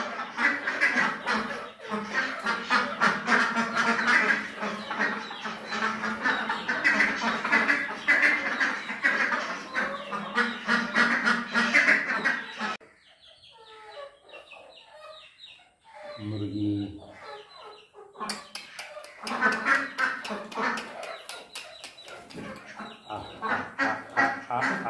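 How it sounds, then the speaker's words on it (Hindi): Ducks and chickens of various breeds at a village pond in Uttar Pradesh, calling loudly and densely for most of the stretch, with a brief quieter gap of scattered calls in the middle. "बत्तख है, बत्तख बाहर भी घूमते, तालाब में भी रहते"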